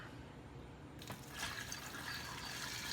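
Tap water pours into a bucket to fill it for pickling corn, starting as a quiet trickle and then swelling into a steady, close rush of filling water that runs on to the end.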